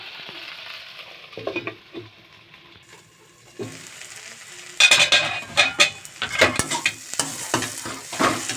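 Taro stolons with shrimp frying in a pan, a steady close sizzle that rises sharply midway, with intermittent scraping and stirring clatters and a few light utensil clinks.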